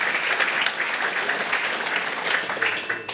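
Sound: applause from conference audience

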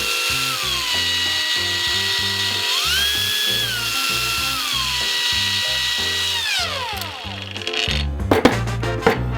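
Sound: cordless angle grinder running, changing speeds

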